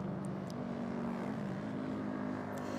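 Race motorcycles in a pro-stock 301-400cc expert class cruising on a victory lap, a steady engine drone that holds one even pitch with a slight wobble, loud and continuous with no pauses.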